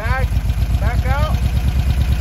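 An engine fitted with IDF carburetors revs briefly, its throttle blips rising and falling in quick bursts over a steady, close, rumbling idle, with someone talking alongside.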